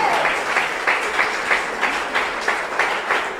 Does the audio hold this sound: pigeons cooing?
no